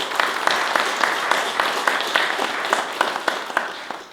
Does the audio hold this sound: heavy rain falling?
no